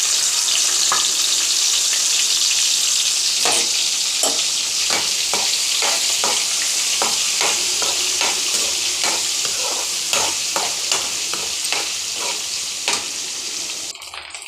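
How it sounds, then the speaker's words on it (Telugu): Dried fish fry in oil with a pinch of turmeric, giving a loud, continuous close-up sizzle broken by sharp clicks and scrapes of stirring, fading slightly near the end. "ఈ ఎండు చేపలు ముందుగా నూనెలో ఫ్రై చేసుకుంటే టేస్ట్ బాగుంటుంది"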